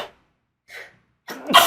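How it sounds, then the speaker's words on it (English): A single sneeze bursts out near the end after a couple of faint breaths and sniffs, close and sharp, with no other sound around it. "my god, I'm sneezing a lot"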